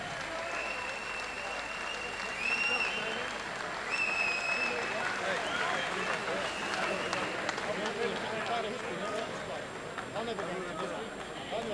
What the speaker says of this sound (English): How about a big round of applause for Stuart Patterson and Danny McGrail.